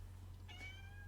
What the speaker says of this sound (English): Cat, if anybody can hear her.